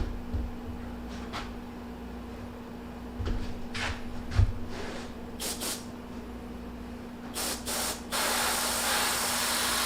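An airbrush sprays paint onto the nose pad of a deer mount in short separate bursts, soft hissing puffs over a steady low hum, ending in one longer continuous spray, close up with no talking.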